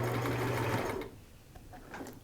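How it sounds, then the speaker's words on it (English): A sewing machine runs a zigzag stitch to tack fabric for a turban, giving a steady, close mechanical whir for about a second before stopping, followed by quiet room sound. "I'm tacking it with my sewing machine and not with the needle and thread"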